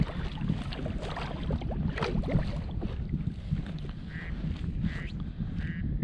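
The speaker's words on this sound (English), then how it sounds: "And my phone is quacking." A phone notification that quacks like a duck gives three short quacking blips late in the clip, heard over the steady rumble of a boat travelling on the Yukon River.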